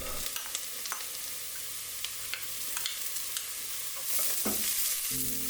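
Chopped vegetables fry in a tablespoon of olive oil, a steady close sizzle broken by scattered scrapes and clicks of stirring, with a louder burst of stirring near the end.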